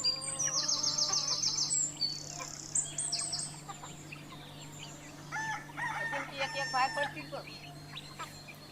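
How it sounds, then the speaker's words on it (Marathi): Village chickens in a traditional backyard flock, a rooster crowing with repeated calls and other birds chirping and clucking around it, moderately near over a low steady hum. "ॲक्च्युली मित्रांनो ही आपली गावठी कोंबडी आहेत"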